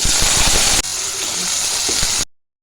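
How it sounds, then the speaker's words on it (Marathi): Potatoes hit hot oil tempered with cumin in a kadhai, giving a loud, close sizzling hiss that drops slightly after a moment, carries on steadily, then cuts off abruptly into silence. "आपण बटाट्यांना फोडणी देऊन घेऊया"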